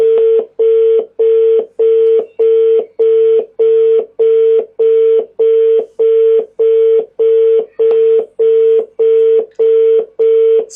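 Telephone line tones while placing a call-in to a live show: a loud, steady train of about seventeen evenly spaced beeps, alone with no talk.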